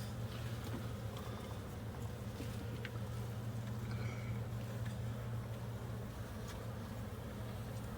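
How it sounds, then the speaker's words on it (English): Honeybees from a large hive under a house hum in a dense, continuous drone, with a steady low tone and individual bees buzzing past close by, no talking. "So far, these are the friendliest bees I think"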